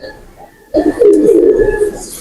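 A blue pigeon coos in a short, close burst of low, throaty calls that start abruptly after a quiet moment and carry on steadily.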